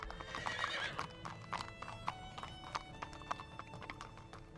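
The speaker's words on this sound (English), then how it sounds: "Why is your horse walking like that?" Hooves clip-clop at a steady walking pace in The Lord of the Rings: The Third Age video game, with a horse's whinny early on over a continuous ambient game background.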